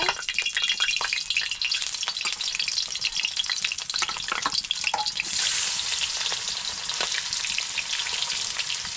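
Fish sizzle steadily in hot mustard oil in a wok, a dense, even crackle with occasional louder pops, heard alone with no talk.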